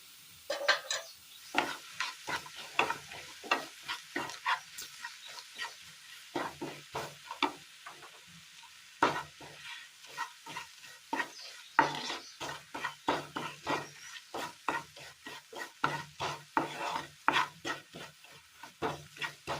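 A spoon stirs chicken masala, chili powder and other ground spices as they roast in a pan, with rapid scraping strokes over a soft sizzle, close and continuous.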